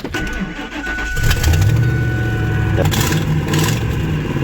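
An old Peterbilt farm truck's engine cranks and catches, then settles into a loud, close idle with a steady rhythmic ticking.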